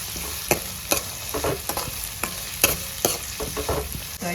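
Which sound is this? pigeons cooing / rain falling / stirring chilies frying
stirring chilies frying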